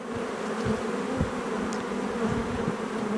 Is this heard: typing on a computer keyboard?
no